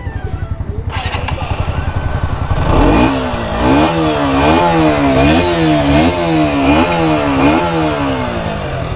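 A KTM motorcycle engine idles with a fast, steady chug, then revs repeatedly in a rhythmic rise-and-fall pattern, loud and close, with no talking.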